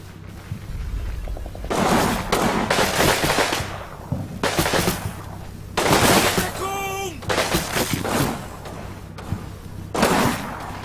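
Gunfire in Combat Mission: Battle for Normandy, a World War II setting, comes in repeated loud bursts spread over about ten seconds. The bursts mix single cracks with rattling automatic strings and carry heavy echoing tails over a low hum.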